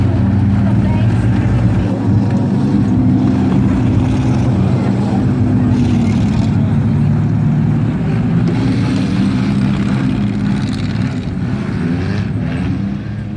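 Four-cylinder class race cars lapping Valley Raceway during a feature race, engines droning and rising as they pass, heard under continuous announcer commentary over the loudspeakers.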